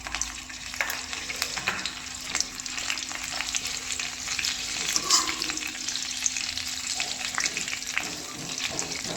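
Butter melting and sizzling in a hot pan for paneer masala, a steady soft crackle with occasional spatters and a faint clink, fairly quiet and with no talking.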